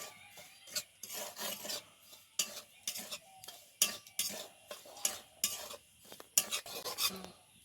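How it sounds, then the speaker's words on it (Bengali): Semolina being lightly roasted in a kadai, stirred with a metal spatula, gives repeated rhythmic scraping and rasping strokes against the pan, close and fairly loud with short pauses between strokes. "এই সুজিটাকে কড়াইতে দিয়ে দিলাম। তারপরে হালকা করে একটু ভেজে নেব।"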